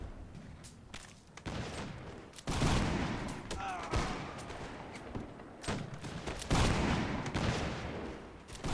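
Musket volleys from infantry firing down on an enemy in the Mount & Blade Warband battle, heard as repeated crackling bursts of massed gunfire with booming thuds, continuous and fairly loud across the clip.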